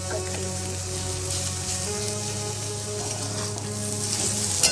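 Okra bhaji sizzles steadily in a pan as coriander goes in, a continuous close frying hiss with faint stirring and no voices.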